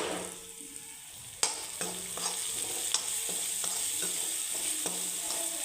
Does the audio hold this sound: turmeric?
yes